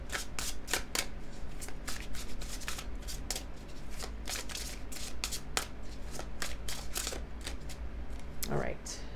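Fairy-themed tarot cards being shuffled up close, a long run of crisp riffling flicks and soft slaps in an uneven rhythm, with a faint steady hum underneath.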